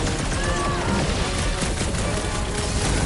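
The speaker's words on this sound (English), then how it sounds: "Sounds like a lot of florking gunfire!" Heavy, continuous gunfire in a Marvel video game battle, a dense, loud barrage of shots and crashes filling the whole stretch with no pauses.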